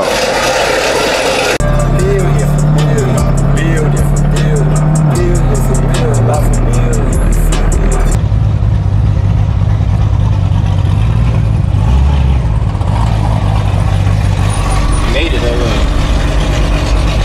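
A Corvette Z06 engine and exhaust set to its loud drive mode rumbles and revs at close range, with deep droning engine tones shifting pitch, while people talk over it.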